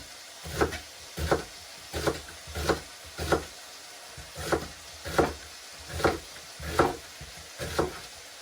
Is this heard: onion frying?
yes